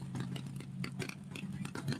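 A nitro drag racing car engine drones steadily throughout, a low rumbling idle with faint rattles and small surges, fairly close and continuous, at a dragway during qualifying.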